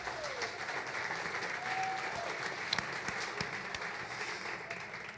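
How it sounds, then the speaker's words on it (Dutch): Studio audience applauding on a Dutch television talk show, a steady wash of clapping held at moderate level throughout with a few sharper claps and faint voices mixed in. "Applaus!"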